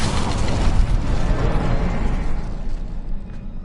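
A fire spell cast in Hogwarts Legacy lets out a loud, roaring burst that crackles and rumbles for a few seconds before slowly fading.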